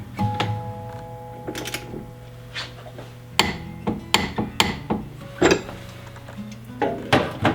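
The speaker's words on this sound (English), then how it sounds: "So with a torque wrench, the socket, put it on top here," A torque wrench tightens a ball joint dome nut on a classic Mini: a string of sharp metallic clicks and ratcheting knocks, irregular and close, with clunks of tools against metal, no talk.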